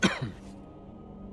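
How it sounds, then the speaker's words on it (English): A character in the Dragon Age: Origins video game gives a short, close cough, two quick rough bursts and then a faint fading breath. "Don't cough on me."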